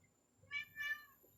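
A house cat meows twice in quick succession indoors, the short, fairly faint cries following each other within half a second against a quiet background.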